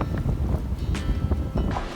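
A sailboat on a bareboat charter in the Whitsundays, Queensland, moves at about 3.5 knots in a light 7-knot breeze. Steady wind rush across the microphone mixes with soft water wash against the hull and brief gusty swells, with no talk.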